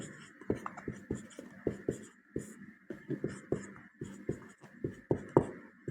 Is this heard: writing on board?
yes